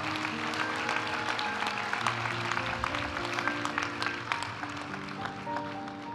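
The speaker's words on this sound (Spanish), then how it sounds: "Aplaudimos ahora a los graduados de la maestría en Dirección Estratégica del Factor Humano" Steady applause fills a university master's graduation ceremony as graduates are honored, a large crowd clapping continuously and evenly throughout.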